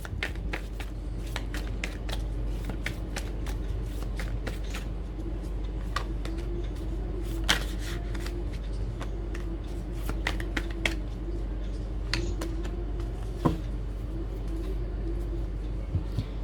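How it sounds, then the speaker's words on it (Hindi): Tarot cards being drawn and shuffled from a deck, with soft repeated papery flicks and brushing sounds, a few sharper snaps, over a quiet low background hum, with no talking. "साथ में और भी कार्ड्स निकलते हैं।"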